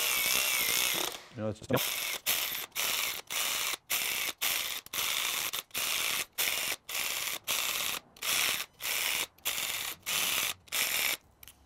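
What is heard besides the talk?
ratchet tightening small block Chevy bolts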